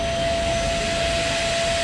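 A vacuum cleaner runs continuously inside a 2002 Proton Satria 1.3 GLi during a car wash, a steady loud whooshing roar with a sustained whine and no pauses.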